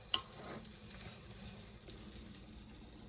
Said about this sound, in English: Egg's cooking pretty good.